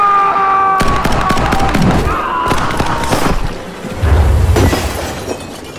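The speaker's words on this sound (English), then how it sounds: "They got some shots off." Gunshots ring out in an animated cartoon scene as cops fire: a series of sharp cracks and heavier thuds, loud and close, over a tonal background hum.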